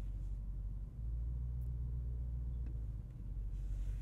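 A 2024 Porsche Cayenne Turbo GT SUV reversing slowly, heard as a low, steady engine rumble from inside the cabin with faint soft bumps.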